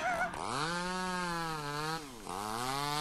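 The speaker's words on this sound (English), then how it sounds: "Oh my god, it's the chainsaw!" A revving chainsaw from the Mad Father horror video game drones loudly and continuously throughout, its harmonic engine whine dipping briefly and picking up again, with no talk over it.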